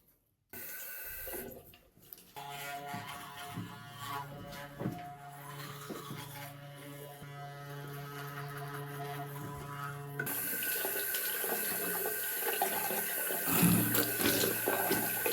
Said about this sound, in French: il faut juste que je me lave les dents